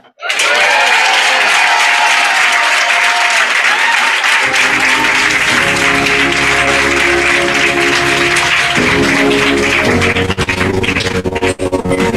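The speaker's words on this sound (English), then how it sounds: "Imagine doing all that, and that is the clap that you get." An audience claps loudly and continuously, the applause forming a dense, sustained wash with a thinner patch of clapping near the end.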